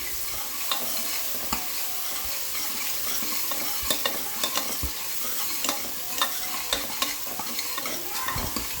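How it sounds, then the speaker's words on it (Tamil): Onions sautéing for a mutton kuzhambu crackle in a steady, even sizzle, with sharp spatula scrapes and stirring clicks spread through the sizzle. No one speaks. "இப்போ வெங்காயம் நல்லா வதங்கணும்"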